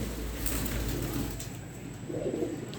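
A Lal Sherazi pigeon breeder pair coos softly and close by in low, throaty murmurs over a steady background hum.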